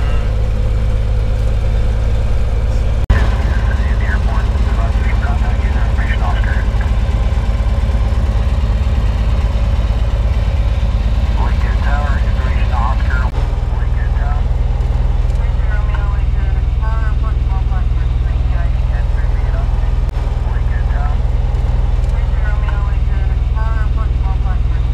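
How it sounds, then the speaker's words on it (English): A Cessna 180 bush plane engine at an Alaska backcountry airstrip gives a steady, loud low drone that runs the whole time, with people talking over it. "What kind of plane is this? Cessna 180?"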